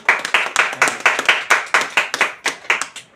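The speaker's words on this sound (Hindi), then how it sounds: "सर के लिए एक बार जोरदार ताली" An audience gives rhythmic, unison clapping for a guest at a royalty income seminar, about a dozen sharp, evenly spaced claps close by.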